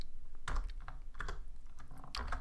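Short bursts of keystrokes on a computer keyboard, three clustered clicks of typing, close and clear against a quiet room.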